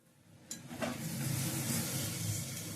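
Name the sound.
rice frying in ghee with whole spices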